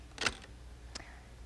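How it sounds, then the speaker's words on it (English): Camera shutter firing at 1/60 second during a demonstration: two sharp mechanical clicks, a louder one then a quick softer one just under a second later, close and alone in a quiet room. "And now I'll fire the shutter and see what we get."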